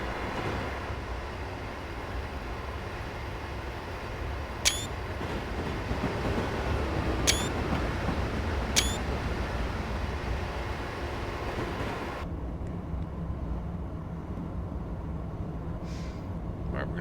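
An Amtrak Acela train running on the Northeast Corridor in Train Simulator 2016 gives a steady, even rumble with a few sharp clicks, and the noise thins out near the end.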